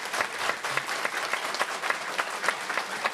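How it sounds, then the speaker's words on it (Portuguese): An audience at an indoor traffic-safety education event bursts into sustained, lively clapping for visitors from the state's interior, a dense crowd applause with no voices on top. "Vamos aplaudir esse pessoal."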